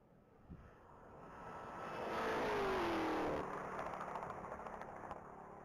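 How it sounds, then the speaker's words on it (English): A 2023 Dodge Challenger Hellcat makes a top-speed pass on a mile-long straight track at a racing event. Its roar builds steadily to a loud peak as it goes past, then fades into the distance, with no talk. "David Williams is making a pass down the track in his 2023 Hellcat."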